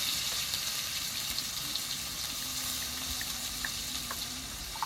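Chopped onion fries in hot oil in a pan, a steady, even sizzle with faint crackles and small pops, continuous and close for the whole stretch.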